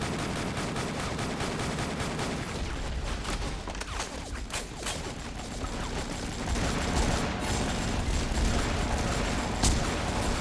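Video game gunfire in the Avatar Star shooter, dense rapid bursts and single cracks crackling continuously over a loud background, with no talk.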